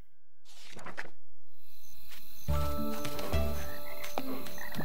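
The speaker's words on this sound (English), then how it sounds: "Check out those singing frogs." Frogs croak in a night swamp in a video game, a dense chorus of layered, rhythmic croaks over a steady ambient game soundscape, loud and continuous without speech.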